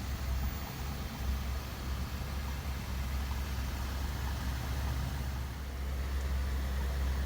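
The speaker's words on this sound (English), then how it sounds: "The Ferrari-derived motor just sounds amazing." A 2002 Maserati Spyder Cambiocorsa with a Ferrari-derived engine runs at a steady idle, a low continuous rumble with a soft hiss and no voices.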